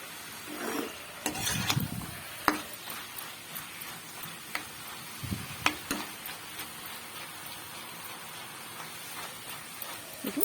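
Jute leaves fry in oil in a pan with a faint, steady sizzle, broken by occasional scraping and tapping as a spatula stirs them; no one speaks.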